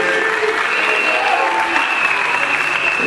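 Steady, dense applause from an audience honouring teachers at a school certificate ceremony for the 2022 Exetat exam, loud and continuous with no break.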